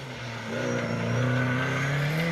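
A rally car engine revs and climbs in pitch as it speeds closer along a stage in North Wales, growing louder and holding a steady roar.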